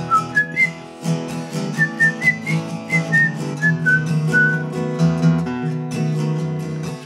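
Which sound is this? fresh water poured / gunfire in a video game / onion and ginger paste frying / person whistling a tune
person whistling a tune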